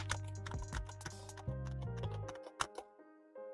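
Typing on an RK84 mechanical keyboard, a rapid run of close, crisp key clacks that thins out into a few separate presses, no talking.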